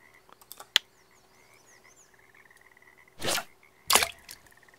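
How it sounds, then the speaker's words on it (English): Frogs croak in the Russian Fishing video game, scattered close calls over a quiet ambient backdrop, interrupted by a few sharp splashy bursts. "Once you start hearing those frogs"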